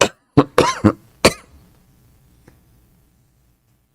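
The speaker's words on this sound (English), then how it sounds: "Sorry for my cough." Close, dry coughing from a speaker: several sharp bursts in quick succession, then a throat-clearing hack, followed by near silence and a faint small tap.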